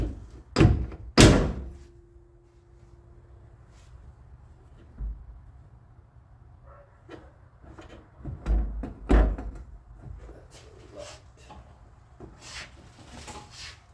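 Someone works a door latch on a locked door: a few sharp, close clunks and rattles in separate bursts, with quiet stretches between them.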